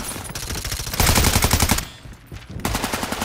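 Rapid automatic gunfire in Call of Duty MW3 Zombies comes in loud, close bursts of fast rattling shots, broken by a brief lull before firing resumes.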